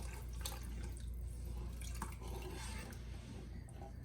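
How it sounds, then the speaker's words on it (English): Cold milk trickles slowly into a hot flour mixture for a copycat Olive Garden zuppa toscana, a soft continuous liquid pouring with faint drips and light clinks over a steady low kitchen hum. "Pour it in really slow because this is cold liquid."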